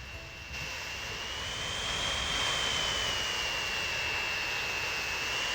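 A Boeing 747's jet engines roar steadily in Transport Fever 2, with a high whine that slowly rises and drifts over a broad, even rumble that swells slightly and holds, and no one talking.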